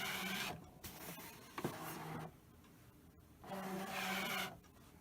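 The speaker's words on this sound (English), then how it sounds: "So I'm going to load the mat into the machine." A Brother ScanNCut cutting machine draws a cutting mat in, giving two close mechanical whirring, rubbing bursts with a brief click between, separated by a quieter pause.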